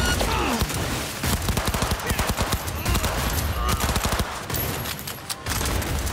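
Rapid automatic gunfire in the video game Cyberpunk 2077 during a heist, dense loud bursts of shots with shouted combat voices and game chatter mixed in.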